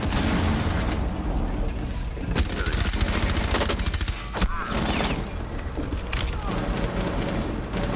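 Heavy gunfire in the video game Rainbow Six Siege during a team deathmatch on the Yacht map, sustained rapid bursts and booming shots filling the whole stretch at close range, with some talk mixed underneath.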